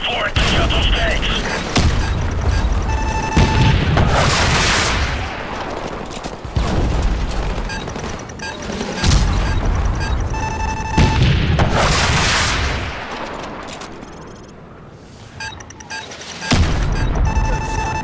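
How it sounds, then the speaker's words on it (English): Heavy gunfire and repeated explosions from the video game Call of Duty Modern Warfare Remastered, booming blasts and rattling shots in dense bursts that rise and fall over continuous battle noise, with shouted voices mixed in. "Bravo 6, we're taking heavy fire on our"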